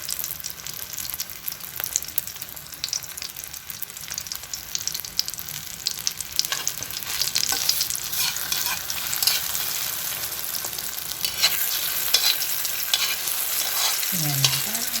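Eggplant omelette frying in a small amount of oil, a steady close sizzle and crackle lasting throughout with occasional spatter peaks.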